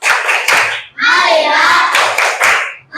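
Fifth-grade children in a classroom ice-breaker clap hands together in a short rhythmic focus clap, several brisk bursts mixed with chanting voices.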